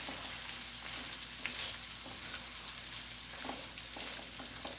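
Fresh turmeric and chillies frying in a pan for pickle, a dense, steady hiss and crackle with faint stirring, close and continuous, with no voices.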